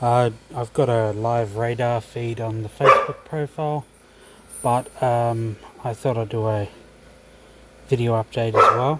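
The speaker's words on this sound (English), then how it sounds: "Excuse the dog in the background" A dog barks now and then in the background, the yaps partly masked by someone speaking steadily close to the microphone throughout.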